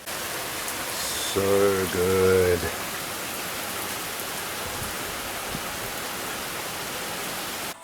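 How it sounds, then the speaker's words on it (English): Steady rain falls on a grey, cold day, an even hiss of drops throughout; a person speaks briefly early on over the soft, constant patter. "It's grey, it's raining, it's actually cold."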